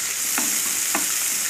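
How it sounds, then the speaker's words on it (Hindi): Chopped onion and green chilli stir-fried in a pan, a continuous bright sizzle broken by two distinct scraping stirs of a spoon, close and without any voices. "और इसे थोड़ी देर के लिए मैं भून लेती हूँ।"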